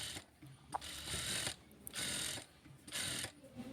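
A sewing machine runs a pressing stitch along a child's frock in three short bursts of rapid mechanical whirring, each separated by brief pauses, close and steady with no talk.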